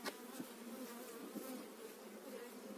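Honey bees buzz steadily at a beehive during a February hive inspection, a faint continuous hum with a few nearby bees droning past.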